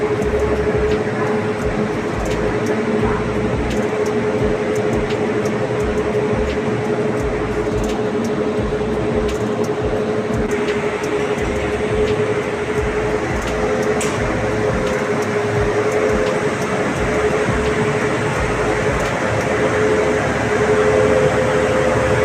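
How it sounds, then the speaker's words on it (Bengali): An Intercity Express train rolls into platform 5 at Koraput railway station, a steady loud rumble and hum of wheels and carriages that holds throughout, with a faint tonal whine running under it. "কোরাপুট স্টেশনের 5 নম্বর প্ল্যাটফর্মে ট্রেন ঢুকছে।"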